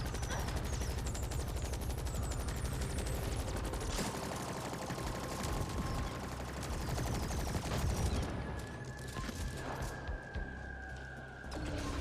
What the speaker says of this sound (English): Watch out! Here comes some turrets.